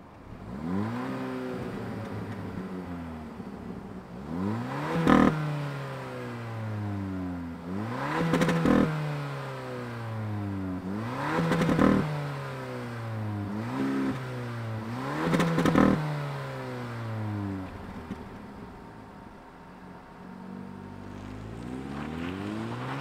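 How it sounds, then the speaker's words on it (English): A 2022 Hyundai Elantra N Line engine fires up and revs repeatedly, four or five sharp climbs in pitch that fall back to idle between them, close and loud with no talking. "let's fire up this N Line and hear what it sounds like"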